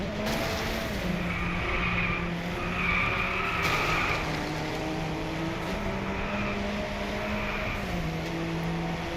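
Race car tires skidding and squealing in the Driveclub racing video game, a continuous loud screech layered over a steady engine drone for the whole stretch, with no talking.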